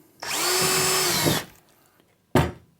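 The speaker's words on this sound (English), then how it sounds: "Then taking my cordless drill," A cordless drill drills a hole during base-unit furniture assembly, spinning up and running loudly for about a second before winding down, followed by a brief sharp knock.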